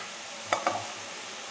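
Chopped fenugreek greens sizzle and get stirred in hot oil in a home kitchen, a soft steady frying hiss with two brief spoon scrapes near the middle, close and fairly quiet.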